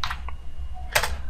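Keys tapped on a computer keyboard during SAP data entry, with the Enter key pressed: a few quiet, close clicks, an isolated keystroke, then a brighter final press.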